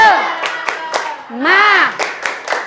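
Children in a classroom clapping in a rhythmic pattern of sharp, close hand claps, mixed with loud chanting and shouting voices.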